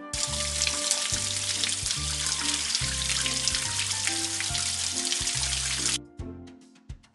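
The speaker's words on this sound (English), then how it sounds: "Let's rinse the pup's paws under the water to get them wet." Water hissing steadily from a tap in the video game Paw Patrol: A Day in Adventure Bay for several seconds over a light, plinking musical background, then cutting off abruptly.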